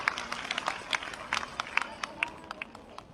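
Scattered applause at a government launch event for an electricity app and thermal printer distribution, welcoming a minister: sparse, individual claps from a modest crowd, uneven and fairly close, with no talking over them.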